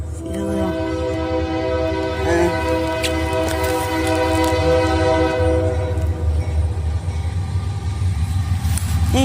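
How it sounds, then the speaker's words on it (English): A train rolls past close by, its horn blaring in long sustained chords over a continuous rumble of wheels, in rural central Arkansas. "train's here."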